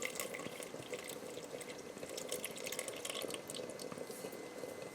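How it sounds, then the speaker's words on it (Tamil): Water poured over sugar and strained while making Thi Pongal, giving a quiet, steady trickle and splash with scattered drips throughout, close by and faint, no talking. "நான் மிச்ச சர்க்கரையும் எல்லாத்தையும் எடுத்து வச்சுருக்க தண்ணியை விட்டு நல்லா கரைச்சி போட்டு வடித்து"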